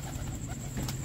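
Pigeons coo softly in a short, faint burst of low, throaty calls, with no voices over them.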